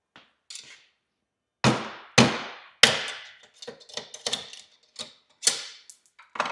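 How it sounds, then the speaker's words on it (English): A hammer strikes metal in sharp, ringing blows, three strong hits followed by a cluster of lighter taps and clinks, close and irregular. "I gotta hit this with a hammer."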